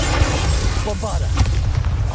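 A Bombarda explosion spell goes off in Hogwarts Legacy, a loud, dense blast that fills the clip with sustained booming rumble and crackling debris over continuous game noise.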